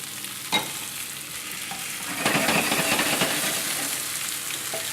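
Drained potatoes go into a pan of softened ingredients and fry with a steady sizzle, joined by a sharp clatter and stirring scrapes as the crackle grows louder partway through.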